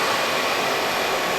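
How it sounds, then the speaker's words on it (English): Filament winder wrapping carbon fiber around a mandrel for a drive shaft, a steady broadband whirring hiss, loud and continuous, with no breaks. "This is a carbon fiber mandrel being wound to be a drive shaft."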